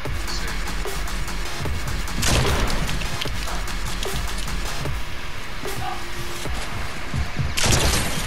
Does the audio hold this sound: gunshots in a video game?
yes